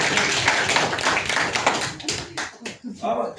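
A group of people claps quickly and steadily, a fairly loud patter that fades out toward the end as a voice begins speaking.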